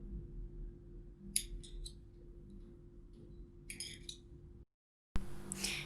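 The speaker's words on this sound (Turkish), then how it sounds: "Şimdi ipimi kesiyorum." Scissors cut through crochet yarn in a few crisp snips, spaced apart as separate clicks, close by and quiet against a low steady background hum.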